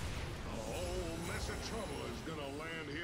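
Cannons firing in StarCraft II co-op battle, a dense, steady barrage of booms and bursts layered over busy game noise, with a voice talking over the top throughout.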